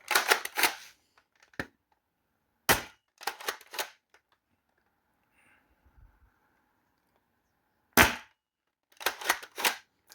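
A Dart Zone Stryker foam dart blaster fires in sharp, loud snapping shots, some in quick bursts of two or three, separated by near silence.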